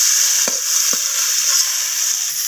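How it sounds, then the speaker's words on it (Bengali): Potatoes frying in a wok of hot oil give a steady loud hiss, with two brief low clunks early on as pieces are moved, close up and without talk. "তো এরপর আমি কড়াইয়ের মধ্যে আলুগুলো দিয়ে দিচ্ছি। আলুগুলোকেও কপির মতো ভেজে নেব লালচে করে।"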